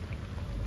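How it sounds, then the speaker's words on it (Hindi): Steady rain pours at Humayun's Tomb in Delhi, a dense, close hiss of drops hitting surfaces with no talking. "गाइस यहाँ पड़ने लगी है बहुत तकलीफ बारिश"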